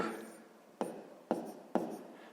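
A pen scratches on paper while a sixth-grade math problem is written out, short scraping strokes alone with three sharper taps spaced evenly near the end.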